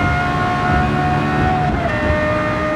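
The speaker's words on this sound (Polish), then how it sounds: "Jak ten samochód w tunelu, ale też poza nim tutaj przepięknie brzmi." A race car engine in Gran Turismo 7 drones loudly and steadily as it drives through a highway tunnel, its held tones echoing off the walls with no talk over it.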